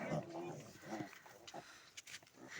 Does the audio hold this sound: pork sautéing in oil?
no